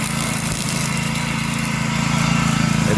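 A DR brush mower cuts through rough growth near an old spring, its engine droning loud and steady throughout with a slight rise in strain toward the end.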